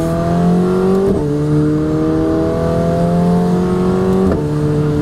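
A McLaren 720S Spider engine roars loudly as it accelerates with the window open, its pitch climbing steadily through two quick gear shifts, heard from inside the cabin.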